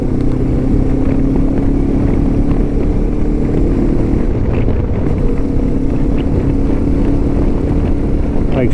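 A 2025 Lifan KPT 400 motorcycle being ridden, its engine holding a steady droning tone under heavy wind rush, loud and continuous throughout.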